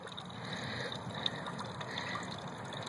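Water trickles and drips from old garden drip irrigation lines spiked into an aquaponics grow bed with a running pump, a soft continuous close-up dribble with occasional small splashes and no talk.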